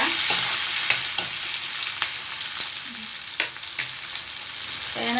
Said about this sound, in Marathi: मिरची टाकून हलवून घेते. 2 मिनिटं हलवून घ्यायची मिरची भाजून जरा.